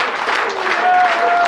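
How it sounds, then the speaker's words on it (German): Audience in an old brewery hall in Cologne's old town applauding together, a close, steady burst of clapping with some voices mixed in. "Ihr Lieben, warum klatscht ihr?"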